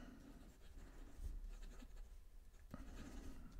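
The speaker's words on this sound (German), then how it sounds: "Setzen mal neu zum Schreiben an." A Visconti Breeze fountain pen nib scratches across paper with ink flowing, a faint, close, continuous scratching of writing strokes with no talk.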